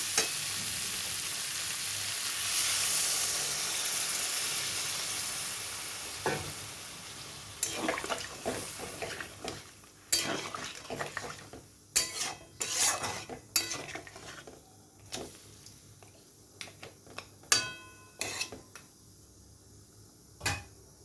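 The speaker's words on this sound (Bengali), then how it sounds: "এখন আমি এখানে পরিমাণ মতন একটু জল দিয়ে দেবো" Water is poured into a simmering curry of giant freshwater prawns, potato and cauliflower in a pan, a rushing pour followed by scattered clinks and scrapes of a utensil stirring against the pan.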